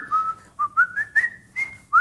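A person whistles a quick series of short rising notes in a chef's serving-style call, bright and close, with steady rhythmic bursts and no talking.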